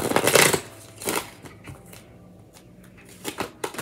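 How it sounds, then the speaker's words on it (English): Angel oracle cards being shuffled in quick papery bursts, a few riffles and slides near at hand separated by brief quiet gaps. "Did I already pull romance angel cards?"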